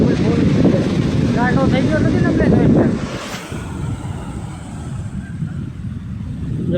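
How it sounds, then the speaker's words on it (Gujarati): Sea waves wash in at Porbandar Chowpatty beach, a loud surging roar with heavy wind buffeting the microphone, softening after a few seconds, with a voice speaking over the first part. "મોજા ચાલુ થઈ ગયા"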